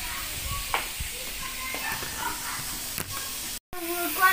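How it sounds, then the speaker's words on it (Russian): Potatoes frying in a pan at home during a birthday meal, a steady soft sizzle and spatter with occasional clinks, heard up close. "тут у меня жарится картошка"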